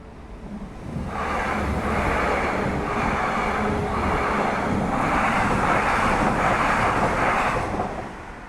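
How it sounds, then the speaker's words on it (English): A steady rumbling roar of trains passing nearby, building up quickly and holding level for several seconds before fading, with some wind noise on the microphone. "And 2 trains."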